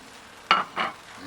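Two short bursts of hissing sizzle, about a third of a second apart, as oiled polenta slices go onto the hot side of a grill grate, each fading quickly into a quiet background.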